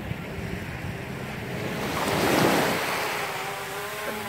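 Surf washing onto Patong beach in Phuket, Thailand, a steady broad rush of waves with wind noise that swells to a louder break midway and then eases, with no voices.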